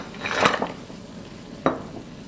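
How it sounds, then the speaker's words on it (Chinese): Frozen dumplings nudged with a spatula in a pot of boiling water, two scraping knocks of the utensil against the pot, the first longer and the second brief and sharp, over a soft bubbling background. "用铲子从一边推动，防止饺子粘连"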